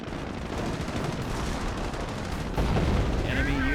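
Artillery barrages and gunfire rumble continuously through a Company of Heroes 2v2 tank battle, a dense wash of explosions that grows louder near the end, with a faint high tone over it.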